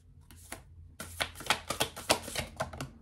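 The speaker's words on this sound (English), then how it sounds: "I'm going to shuffle them separately first" A new, slightly sticky tarot deck is shuffled by hand close up, with a quick burst of crisp card flicks and riffles that rattle on rapidly for a few seconds.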